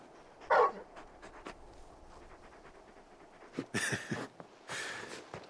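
A large dog in Final Fantasy XVI pants and whimpers softly, with a short yip early on and breathy panting bursts later, faint against a quiet game background.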